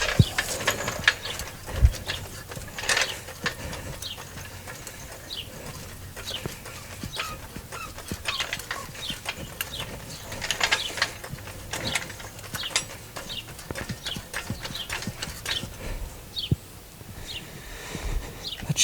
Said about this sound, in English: So let's get the jack.